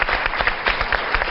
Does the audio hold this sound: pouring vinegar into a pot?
no